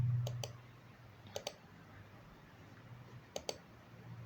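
Computer mouse clicks while working in Revit software, quiet paired clicks in three spaced bursts over a low steady hum.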